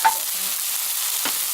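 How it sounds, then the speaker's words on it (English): Onions fry in a pan for a chicken curry, giving a soft, steady sizzle with a faint clink at the start and a brief scrape near the end. "I think it's the water that causes the sizzling"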